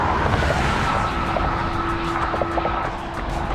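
A car passes close by a runner on a road, a loud steady rush of engine and tyre noise that fills the whole short stretch, with no talking.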